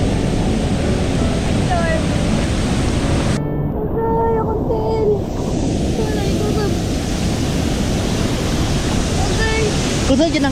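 Roaring water from the widest waterfall in the Philippines, a broad, powerful falls with strong current, pours as a loud continuous wash that fills the whole clip, with a brief buzzing drone partway through.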